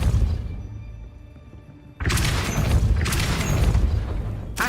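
A Depulso spell cast in Hogwarts Legacy: a sudden loud, booming blast that cuts in after a quieter ambient passage and then sustains with crashing, shattering bursts.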